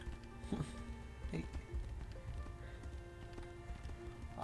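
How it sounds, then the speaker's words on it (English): Horse hooves clip-clop at a trotting pace amid a busy, layered soundscape in the video game Tainted Grail, moderately loud with faint background ambience. "I have a horse."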